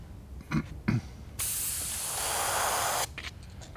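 An airbrush sprays white paint in a steady hiss lasting well over a second, close and fairly loud, with a few soft clicks and handling noises before and after.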